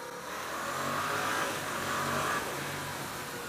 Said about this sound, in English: with this stock exhaust on it, it sounds nice, but it's very mute.